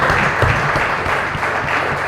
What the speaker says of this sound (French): merci beaucoup d'applaudir Gaëtan qui n'a pas été de moindre sur ce plateau